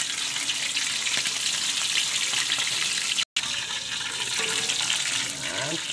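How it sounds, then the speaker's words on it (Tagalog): Steady, dense crackling and sizzling of chicken frying in hot oil in a pan, close and continuous, with a brief cut partway through. "Prito na po natin."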